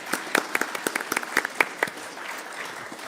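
Audience applause at a talk on continuity of care for migrants: a short burst of scattered clapping from a modest crowd, uneven hand claps rising then thinning out over about three seconds, fairly distant.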